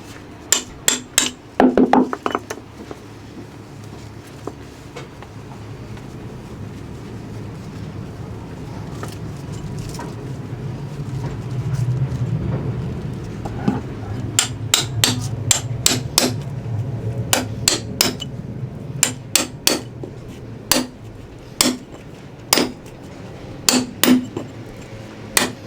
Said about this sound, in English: We have a very, very fancy caulking iron